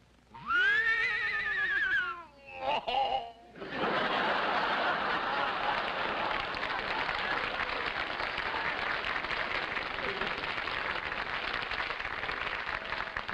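Someone imitates an English horse whinny with a rising, wavering neigh and snorts, followed by sustained loud applause and cheering from a TV studio audience.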